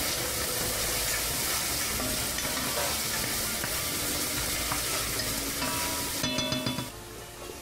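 Sofrito of celery and onion browning gently in a pan for Italian pasta e fagioli, a steady dense sizzle with scattered stirring scrapes that runs continuously and eases toward the end, no voices.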